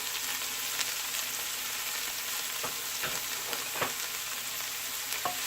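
Onions, celery and carrots sizzle steadily as they sauté in a Ninja cooker, a soft, even frying hiss with occasional light pops and stirring clicks.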